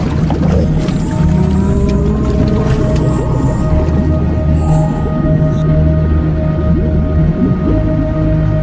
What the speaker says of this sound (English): the legendary Bloop resonates through the water.